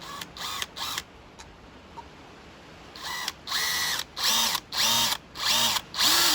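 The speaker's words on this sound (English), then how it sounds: "let's just try and drill an hole" An electric drill bores a hole into unfamiliar tough material in short bursts, several brief whirring pulls followed by longer loud runs that rise and stop, close up and without talk.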